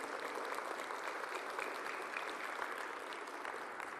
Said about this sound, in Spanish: denle ese aplauso a Cristo